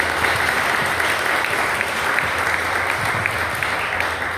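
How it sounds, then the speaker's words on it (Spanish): An audience at a parents' school talk on addiction prevention in the family applauds to welcome a speaker, dense, even clapping that holds steady and loud for the whole stretch. "Lo recibimos con un fuerte aplauso"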